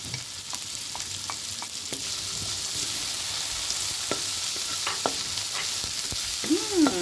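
Onion and garlic fry together in a pan, a soft steady sizzle with occasional stirring scrapes and light utensil knocks, no talk.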